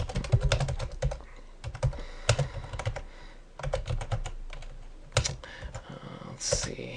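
Someone types commands on a computer keyboard, fast bursts of close clicky keystrokes broken by short pauses, with light background sound between the bursts.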